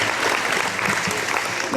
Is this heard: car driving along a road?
no